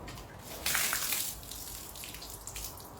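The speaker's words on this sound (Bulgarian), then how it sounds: "Чакай, да ти подлея първа вода, че ще имаш нужда" Water poured out from a container onto the ground behind a person leaving on a first school day, a brief splashing gush that swells near the start and then trails off into softer dribbling.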